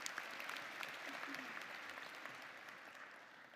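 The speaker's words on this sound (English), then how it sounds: "Please give them a big round of applause" Audience at a College of Charleston winter commencement applauding former trustees, a steady, moderately distant wash of clapping from a large crowd throughout.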